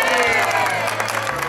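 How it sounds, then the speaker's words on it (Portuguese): A crowd at a family gathering in Bairro do Limão applauds and cheers for a woman named Leidiane, a brief burst of dense clapping and cheering voices. "Uma salva de palmas para a Leidiane!"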